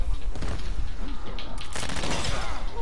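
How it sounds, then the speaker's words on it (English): Machine gun fire rattles in a fighting video game, a dense, loud stream of rapid shots running nearly unbroken for a few seconds, with a voice faintly underneath. "Machine gun."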